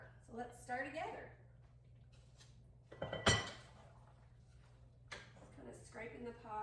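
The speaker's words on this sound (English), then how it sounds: "Scraping the pot and the bottom of it." A spoon stirs and scrapes the bottom of a gumbo pot, with a few brief clanking scrapes between stretches of someone talking nearby.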